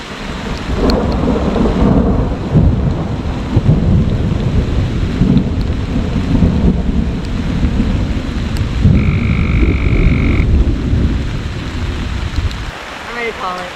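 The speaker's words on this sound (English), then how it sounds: "Raining too hard for me." Heavy rain pours steadily on an off-grid homestead, with rumbling thunder rolling through and a brief tonal chirp near the end, loud and continuous throughout.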